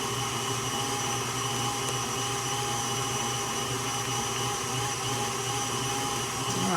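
Electric mixer creams soft butter for carrot cake buttercream icing, a steady loud motor whir running unbroken throughout with no talk.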